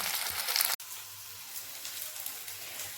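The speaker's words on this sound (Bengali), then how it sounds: "বাকি মিঠাগুলোকেও একই রকমভাবে ভেজে নেব" Pieces of chitol fish frying in oil in a pan, a steady close crackling sizzle after a brief cut, with no talk over it.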